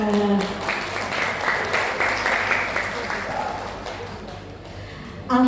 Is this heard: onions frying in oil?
no